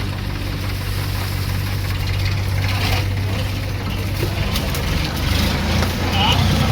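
A tractor engine idles at an onion market, a steady low throbbing hum that stays close and constant, with faint market bustle around it.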